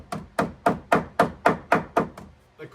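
A hammer taps on a cardboard template during tube-frame fabrication for an IS300 car, with eight evenly spaced, crisp knocks followed by a softer final tap.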